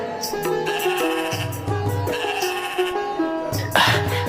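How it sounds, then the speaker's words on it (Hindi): Sheep of a fine breed bleat repeatedly in a Hindi cartoon story, with overlapping wavering cries layered over music, growing louder near the end. "ये भेड़ें तो बड़ी ही अच्छी नस्ल की लग रही हैं"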